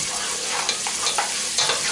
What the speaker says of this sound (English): we're basically just going to want to saute these onions for about, I don't know, 4 to 6 minutes